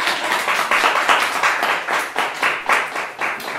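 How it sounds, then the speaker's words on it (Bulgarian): An audience claps after a dance performance at an autumn festival, steady dense applause from many hands, loud and close throughout. "Аплодисменти."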